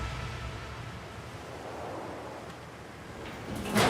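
Ocean waves in a video game set at sea, with sailors near a U-boat: a steady, rushing wash of surf and wind noise that swells slightly louder at the end, with no talking.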